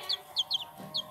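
A chicken clucks in a handful of short, sharp bursts at an uneven rhythm, fairly faint and alone with no talking.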